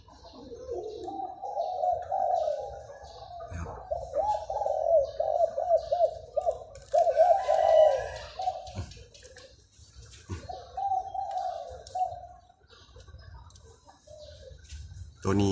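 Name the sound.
dove-like 'si kuk ha kuk' bird cooing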